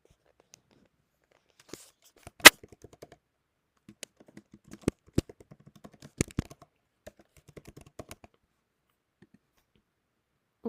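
Keys on a computer keyboard clack while someone writes code, scattered quiet taps in short irregular bursts with pauses between, close and alone.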